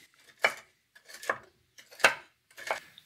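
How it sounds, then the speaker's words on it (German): Walnuts being coarsely chopped with a knife on a board, four distinct thudding chops at an even, unhurried pace, close and clear with quiet gaps between. "die Walnüsse grob zu hacken"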